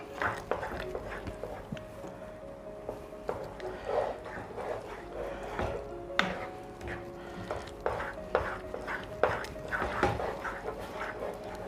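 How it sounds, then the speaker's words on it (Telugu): A spoon scrapes and stirs a mixture of rava, pomegranate seeds and fruit in a pan on the stove, with repeated soft scraping strokes and light clinks at a steady pace, faint and close. "ఇవన్నీ యాడ్ చేసి మొత్తం మిక్స్ అయ్యేటట్టు కలుపుకోవాలి ఈ విధంగా"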